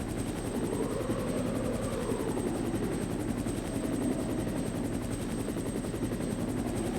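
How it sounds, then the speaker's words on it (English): A helicopter in the PS1 Resident Evil video game drones with a steady, throbbing rotor chop and a constant engine hum, holding level throughout with no talk over it. "the helicopter crashes, and everything's bad forever"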